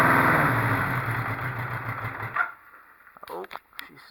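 A Honda CB500/4 motorcycle engine idles with a steady throbbing run, then sputters and dies out partway through, leaving quiet with a few faint clicks and knocks.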